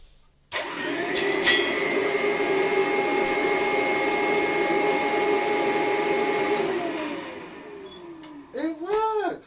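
A vintage 1920 P A Geier Royal machine switches on and runs with a steady, loud mechanical whine and hum, then winds down, followed by rising and falling swoops near the end.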